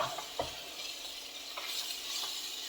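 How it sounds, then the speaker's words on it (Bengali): Spices frying in a pan for a Bengali vegetarian mixed-vegetable dish with eggplant and beans, a steady soft sizzle with a few clinks and scrapes of stirring, close and alone with no voices. "এবার এই মশলাটা দিয়ে ভালো করে ভেজে নেবো।"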